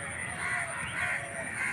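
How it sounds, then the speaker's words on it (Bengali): Crows caw repeatedly in a family park in Naihati, loud and close, with other birds calling faintly around them and no talk over the calls. "শুনতে পাচ্ছ কত পাখির ডাক"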